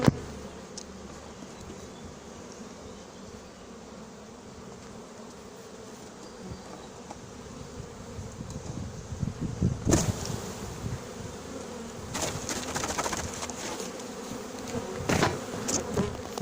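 Many honeybees buzz during a hive transfer outdoors, a low, continuous hum that swells in the second half. Sharper scraping and knocking noises from handling the box cut in near the end.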